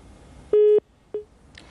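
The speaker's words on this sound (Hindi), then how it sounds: "चलिए यहाँ पर अमोल का फोन डिस्कनेक्ट हो गया।" A telephone line tone as a call disconnects on a finance phone-in show: two short electronic beeps, the first longer and louder, the second brief, heard alone.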